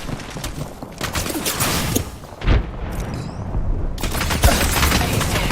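Gunfire in a round-based multiplayer shooting video game: dense, continuous volleys of shots and booming blasts filling the whole stretch, loud and close, with a sharp burst near the middle and no talk over it.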